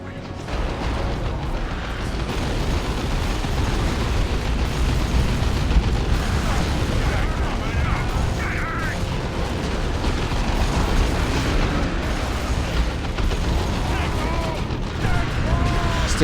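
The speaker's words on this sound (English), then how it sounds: "Stick bombs going off on those Gene Stealers" Stick bombs exploding on Genestealers in the real-time strategy game Dawn of War II: Retribution, dense rumbling blasts and pops layered over continuous battle noise for the whole stretch.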